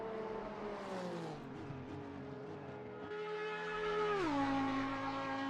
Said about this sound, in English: I love the sound of the Audi.